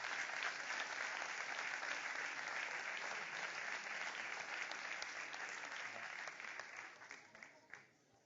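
An audience at a sports awards ceremony applauds an honoured winner, sustained, even clapping that thins out and fades in the last couple of seconds.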